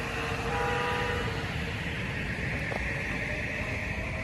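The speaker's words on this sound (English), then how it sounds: "The train is leaving, and now it's going to next stop" A Metro-North commuter train pulls out of Port Chester station, a loud steady rumble of wheels and motors with faint brake or wheel squeals, no voices.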